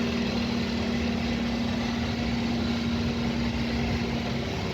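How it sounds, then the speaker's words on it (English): Fuel oil supply pump running in a ship's purifier room, a steady, loud mechanical drone with a constant low hum and broadband machinery noise holding unchanged throughout, no voices. "This pump is running."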